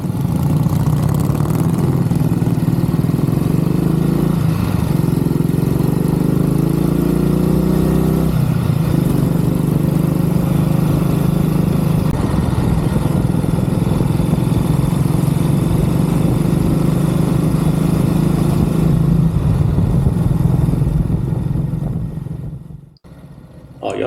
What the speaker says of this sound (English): Our youngest rider today is Alex, who's on a very smart Kawasaki 125, and he's followed by his dad, who's on a much bigger Kawasaki